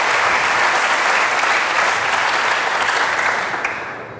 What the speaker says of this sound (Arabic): صفقوا لي